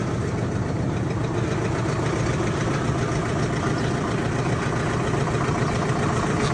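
A 75-horsepower Solis 75 open-station tractor with steel fenders idles nearby, its engine giving a steady, even rumble with a slight knock that holds unchanged from start to finish, with no voices over it.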